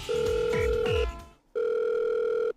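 Phone ringback while calling Dongho: a steady electronic tone sounds for about a second, pauses briefly, then repeats, loud and close, with faint game noises under the first tone.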